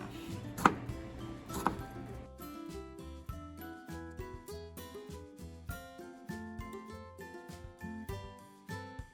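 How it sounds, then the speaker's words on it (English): A knife cuts tomato wedges in half on a cutting board, giving a steady run of crisp, close chopping taps that become quicker and more even partway through, with two heavier knocks near the start. "If you would like to have smaller pieces of tomato, you can always cut these vertical wedges into half"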